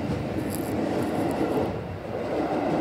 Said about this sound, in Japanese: ここで乗ってきた列車を見送ります。